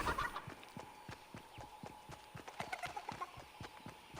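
A chicken in the video game Fortnite, with a run of rhythmic clopping hoof-like steps and clucking fowl sounds close by, steady and busy throughout with no speech.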